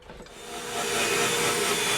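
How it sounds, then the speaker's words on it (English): A power drill countersinks a screw into MDF for a wall cabinet, a harsh whirring grind that builds quickly and then holds steady and fairly loud for about two seconds. "Now I'm countersinking these screws right into the MDF"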